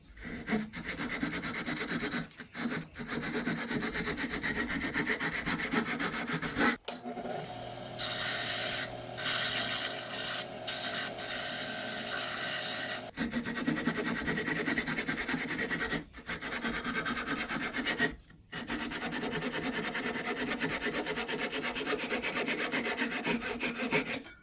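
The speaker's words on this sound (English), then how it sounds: "I'm going to cut this part off and part it off there." A pine workpiece being parted off on a woodturning lathe gives a close scraping, rasping cut with rhythmic rubbing, broken by a steadier tonal whirring spell midway and a few brief pauses.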